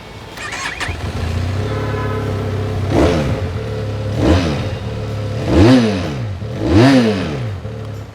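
Benelli Leoncino 500 motorcycle exhaust idling close by, then blipped through four sharp revs that rise and fall in quick succession, loud with a throaty rumble and no talk.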